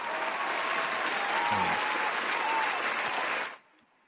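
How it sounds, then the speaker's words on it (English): A canned applause sound effect on a football podcast, a dense burst of crowd clapping with faint cheering that holds steady and then cuts off sharply. "So a round of applause to the Big Ten."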